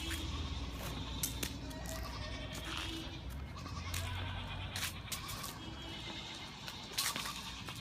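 Goats bleat repeatedly at Hathaway Ranch, a mix of close and distant calls over outdoor background noise, with faint scuffling and occasional voices.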